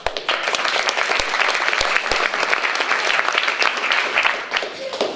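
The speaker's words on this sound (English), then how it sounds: "So give a round of applause." A conference crowd at the EDEx 2018 keynote gives the speaker loud, dense, sustained applause, with sharp individual claps standing out against the continuous roar.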